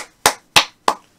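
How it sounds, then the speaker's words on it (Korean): Three sharp, evenly spaced hand claps, close and crisp, each dying away quickly in quiet, heard during a billiards game broadcast. "박수, 박수, 박수."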